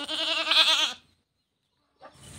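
A billy goat gives one loud, close, wavering bleat lasting about a second, followed by a silent pause and then a faint rustling.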